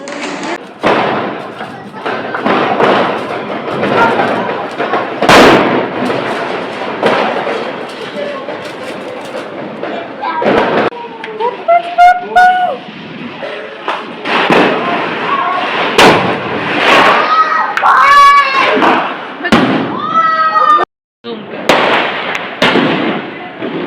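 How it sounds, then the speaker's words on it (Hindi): Diwali firecrackers burst at night outdoors in a long run of loud, sharp bangs and thuds, some near and some farther off, with crackling and whistling rockets mixed in and a few voices in the background. "डिनर करने के बाद हम नीचे आज पटाखे फोड़ रहे थे"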